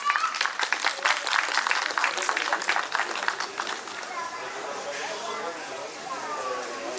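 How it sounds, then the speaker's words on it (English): Audience applause at an International Women's Day and Holi festival event as a speaker comes on stage. Distinct claps come first and fade into murmuring chatter and voices. "Let's give her a round of applause, please."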